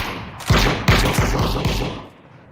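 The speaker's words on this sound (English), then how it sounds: "Team 11 from the high ground throwing shots left and right." Gunfire from a battle-royale shooter, fired from high ground in a competitive Ring of Elysium match: four or five separate heavy shots with thumping low ends, spaced unevenly over a couple of seconds, fairly close, with no talk.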